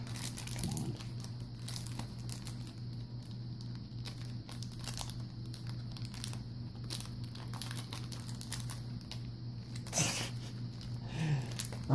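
A Yokai Watch trading card booster pack's foil wrapper is crinkled and torn open up close, with continuous crackling and rustling under a steady low hum and a sharper rip near the end.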